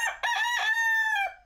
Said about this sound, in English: But not everyone wanted roosters crowing in their urban area.